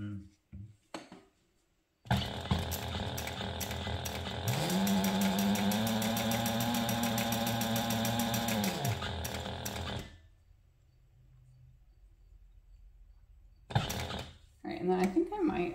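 A sewing machine stitches through vinyl or leather with a long stitch length, running steadily for several seconds with a rising whir, then stopping; brief handling noises come before and after.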